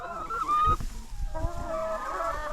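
Free-range chickens in a mobile caravan setup cluck and murmur close by, with a few louder calls and soft scratching sounds underneath, no people talking.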